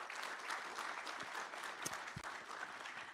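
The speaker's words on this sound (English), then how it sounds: "Could you please give them a quick round of applause before we begin?" Brief round of applause from an audience at a defense and innovation summit in Pennsylvania, steady and moderately distant throughout.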